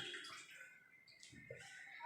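Water is poured into sugar in a home kitchen to make syrup for malpua, a soft, faint splashing trickle heard up close for a couple of seconds.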